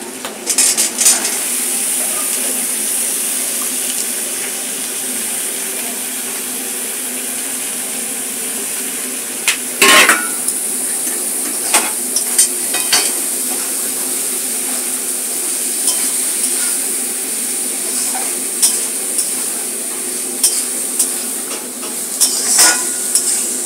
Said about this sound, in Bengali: সবজিগুলো আমার ভাজা ভাজা হয়ে গেছে বন্ধুরা।